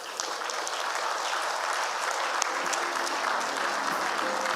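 A lecture audience gives dense, sustained applause to welcome Her Excellency Ellen Johnson Sirleaf, an even wash of clapping with no speech on top.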